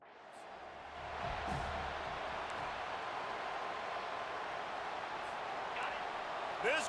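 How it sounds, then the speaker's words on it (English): Stadium crowd roaring in EA Sports College Football 25 at a Georgia Bulldogs vs Florida State game, a steady broad wash of cheering that swells early and holds loud throughout, with a commentator's voice faint beneath it. "This crowd trying to show them what it's going to be like all day in this house."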